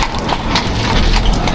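A tall horse pulling a tourist carriage through Vienna clops its hooves in a steady rhythm, close by and fairly loud against street noise.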